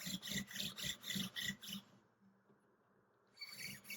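A paper towel rubs fretboard wax into a Fender Paramount acoustic guitar with quick, rhythmic back-and-forth strokes, close up. The strokes pause briefly, then the rubbing starts again.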